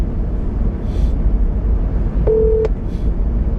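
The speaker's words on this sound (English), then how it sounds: "I'm calling Kelsey to see if it works on my phone" A phone places a test call over a Starlink connection, giving one short steady keypad dialing tone over constant background noise.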